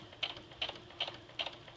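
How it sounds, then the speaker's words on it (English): A sewing machine stitches slowly down a stuff sack, giving five crisp, evenly spaced mechanical clicks, close and fairly quiet, with no talking. "And then now I'm just going to stitch straight down."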